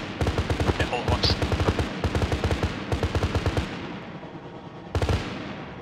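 Machine gun fire in Arma 3, with rapid, close bursts of rounds chattering in several runs, a pause, then one last short burst.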